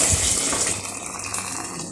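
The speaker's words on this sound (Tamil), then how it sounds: "கொதிக்கிற தண்ணியை நம்ம ஊற்ற போகிறோம்" Boiling water pours in a steady, close gush, splashing continuously for a couple of seconds while making chicken biryani.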